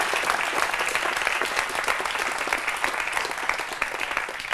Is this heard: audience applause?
yes